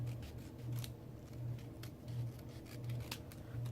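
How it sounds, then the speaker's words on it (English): Scissors trim a paper cupcake shaker card piece, giving a handful of soft, quiet snips spaced at a steady rhythm over a low background hum. "I'm going to give it a little trim before I adhere it to the base"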